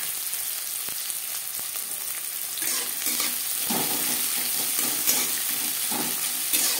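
Chopped onion and split green chillies frying in two spoons of refined oil in a kadai, a steady continuous sizzle with occasional stirring scrapes, close and fairly loud, no talk.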